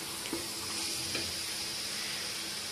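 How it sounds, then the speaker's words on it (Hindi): Potatoes fry with fenugreek leaves in a pan for aloo methi, giving a steady soft sizzle with a couple of faint stirring scrapes, fairly quiet and continuous with no voices. "आलू डालने के बाद मैं 5 मिनट तक उन्हें भी भूनूंगी"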